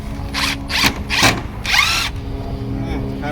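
A power driver sets screws into a greenhouse frame in several short, close whirring bursts with rising and falling pitch, then stops with a faint background hum.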